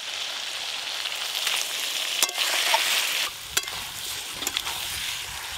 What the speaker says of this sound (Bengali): এই দেখুন বন্ধুরা, মশলার সাথে খাসি মাংস কিন্তু এই রকম ভালো করে কষে নিতে হবে।